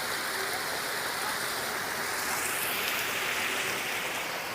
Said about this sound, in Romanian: o mini cascada Niagara de Bușteni